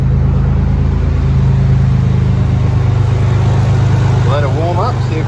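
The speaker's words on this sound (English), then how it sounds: "Let it warm up, see if we need to change the idle" A Nissan 300ZX engine idles smoothly and steadily after a tune-up, a constant low close hum with a voice talking briefly over it near the end.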